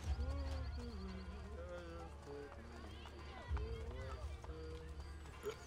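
Rhythmic hoofbeats of a galloping horse pass close by in Assassin's Creed Brotherhood, under continuous talking and background music.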